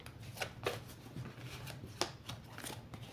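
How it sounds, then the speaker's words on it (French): A deck of cards being shuffled by hand close up, soft riffling bursts in an irregular rhythm with quiet gaps, faint and alone. "Je continue de le mélanger."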